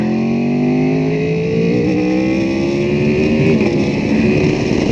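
A superbike engine revs up steadily, its pitch climbing as it accelerates, loud and close throughout.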